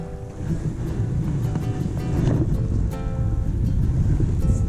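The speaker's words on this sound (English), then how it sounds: "Now the wind is picking up a little bit." Wind gusts across an open reservoir, a steady rushing roar buffeting the microphone, with a faint lapping of water beneath and no voices.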